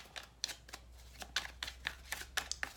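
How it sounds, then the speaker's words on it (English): Tarot cards are shuffled close up in a quiet room, with a run of crisp, papery riffles and flicks in an uneven rhythm. "Just a little bit more shuffling on camera."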